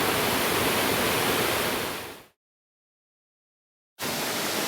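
The Upper Nihotupu Waterfall rushes in a broad, steady roar. The roar cuts out abruptly to total silence for nearly two seconds, then resumes just as loud.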